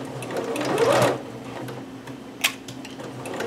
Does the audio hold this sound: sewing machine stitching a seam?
yes